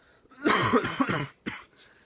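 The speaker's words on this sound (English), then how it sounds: "I'm getting a cough" A few harsh, forceful coughs close by, a burst of rapid hacking followed by one shorter cough after a brief pause.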